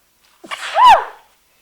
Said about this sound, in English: I'm going to have to sneeze in here in a second